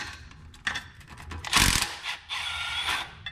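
A ratchet clicks in short bursts while loosening oil pan bolts under a Honda Element, close and fairly loud, with metallic tool clatter in between and no talking.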